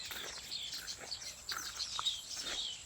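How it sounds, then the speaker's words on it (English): Around tailor bird nests, small birds chirp in short, scattered tweets at moderate distance over soft outdoor ambience. "Chirping birds, peaceful place."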